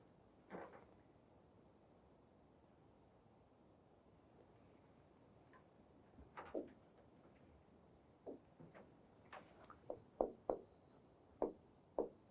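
A board is written on during a classroom lecture. Faint scratchy strokes come sporadically at first, then cluster into a run of quicker, sharper marks toward the end over a steady room hiss.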